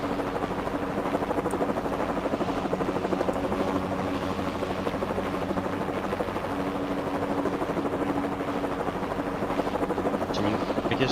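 A Blackhawk helicopter flying in a video game drones on steadily with a continuous rotor whir, fairly loud throughout, with faint talk in the background.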